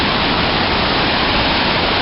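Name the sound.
waterfall roaring in Cascade Canyon, Grand Teton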